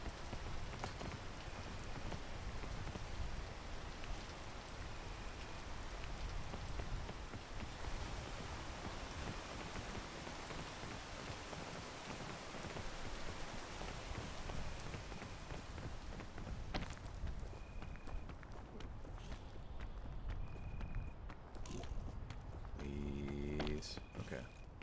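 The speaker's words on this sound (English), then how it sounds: "And it's raining." Steady rain pours across the landscape of the climbing game PEAK, a dense continuous hiss of falling drops filling the clip throughout, with a faint voice speaking under it.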